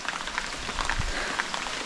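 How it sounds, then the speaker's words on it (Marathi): Rain in a Konkan village, a steady broadband patter of drops on surfaces, moderately quiet and continuous, with no voices. "पावसाने पण परत सुरुवात केलेली आहे"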